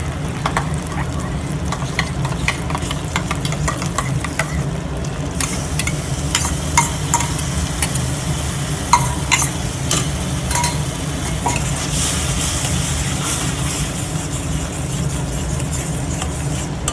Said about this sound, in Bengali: এটা পুরো কষানো হয়ে গেছে, তেল ছেড়ে দিয়েছে মশলা থেকে